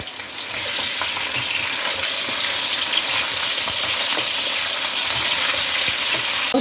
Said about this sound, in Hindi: इसमें हाफ़ kg बीफ का गोश्त है वो डाल दें और गोश्त को इसमें भून लें।